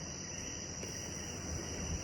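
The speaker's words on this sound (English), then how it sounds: "Do you hear that? That is crickets." Crickets chirp in a steady, continuous high trill outdoors at night near the ocean, with a low rumble of surf or wind underneath and no talking.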